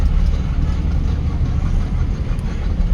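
A car engine hums low and steady as the driver lightly presses the accelerator during a driving lesson, a constant rumble with road noise.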